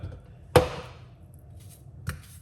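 A knife cuts through watermelon twice, a sharp crunching chop followed by a lighter second cut, close and otherwise quiet.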